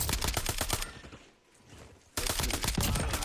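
Rapid bursts of automatic gunfire in a video game, loud and tightly spaced, dropping out for about a second before another heavy volley resumes.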